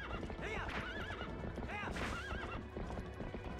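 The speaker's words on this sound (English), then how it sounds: "Oh, I'm chasing him on a horse." A horse in a video game chase gallops with rapid clip-clop hoofbeats and lets out two loud whinnies, close and prominent over a busy game soundscape.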